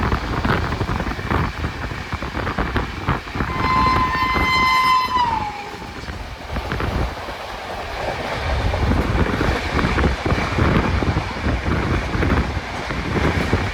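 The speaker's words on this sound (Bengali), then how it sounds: "আমাদের ট্রেন ক্রস করছে হাজিগড় রেলওয়ে স্টেশন" The Bolpur–Howrah Shantiniketan superfast express rumbles steadily along the tracks at about 130 km/h with heavy wind rush, passing Hajigarh station, and a loud horn blares for a couple of seconds early on.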